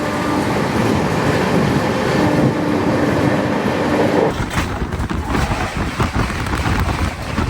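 The Amrit Bharat Express, a superfast Sealdah–Banaras train, runs at speed on its rails with a loud, continuous rolling rumble and rattle heard from on board. The texture shifts partway through, turning rougher and more clattery.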